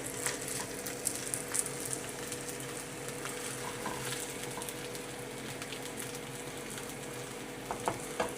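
A lamb quarter-pounder burger patty fries steadily in a pan, a dense, continuous close-up sizzle with scattered crackles and spits throughout, and no voices over it.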